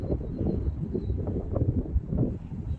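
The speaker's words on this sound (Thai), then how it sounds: "ได้ยินเสียงลมบอนะคะ" Steady, heavy wind noise of a strong, dry, dusty wind buffets the microphone, a continuous low roar with gusty swells throughout and no talking.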